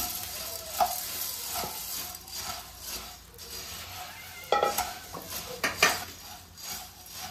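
A spoon scraping and clinking against a pan as a puffed rice puri mixture is stirred, soft sizzling underneath with several louder metallic taps near the end, close and moderately quiet.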